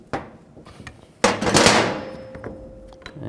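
A pry bar levering the windshield wiper arm off a 2000-04 GMC Yukon, a sharp metallic knock followed by a louder clunk and scraping pop as the arm releases, with a faint ringing tail.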